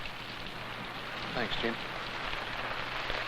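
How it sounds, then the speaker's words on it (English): Rain beginning to fall outdoors makes a steady, soft broadband hiss throughout, with a brief spoken voice partway through. "It's starting to rain."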